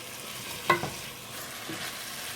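A potato soup mixture bubbles and sizzles in a pot on the stove, a soft continuous hiss broken by a couple of brief utensil clinks near the start.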